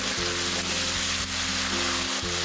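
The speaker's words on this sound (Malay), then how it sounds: "Kacau rata sampai semua ayam ni mula bersalut dengan sos." Chicken pieces sizzle steadily in thick, glossy sauce of tomato sauce and sweet soy in a hot pan while being stirred, a loud continuous crackling fry with faint scraping under it and no talk.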